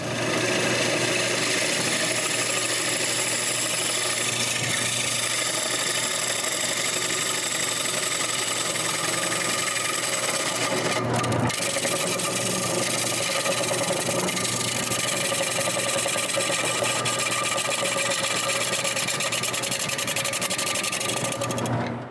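A wooden plate spinning on a woodworking lathe, a steady motor hum with continuous cutting and scraping noise, close and loud, briefly interrupted midway.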